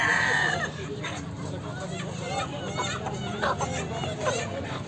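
Hens and roosters at a busy village chicken market in Lonand, clucking and calling continuously at close range amid crowd murmur and voices talking.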